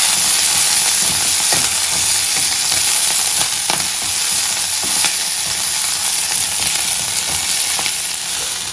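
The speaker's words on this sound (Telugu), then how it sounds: "ఇది 2 minutes నుంచి నేను ఫ్రై చేస్తున్నాను." Onions sizzle in a hot pan for Maharashtrian green chilli thecha, a constant close frying hiss broken by regular scraping stir strokes about once a second, with no talking.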